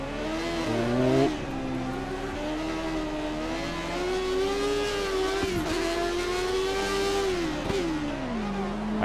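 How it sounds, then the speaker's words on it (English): A 1980s-era Formula 1 car engine in the F1 2013 video game drones steadily with rising and falling pitch as it revs, loud and continuous throughout, with no talking. "I can hear Mansell's engine in the background."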